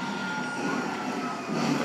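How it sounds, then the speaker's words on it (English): A train in the video game GTA V rolls past in a tunnel with a loud, steady rumble of rail cars and faint wheel squeal, building slightly near the end, with no voices. "That's a train."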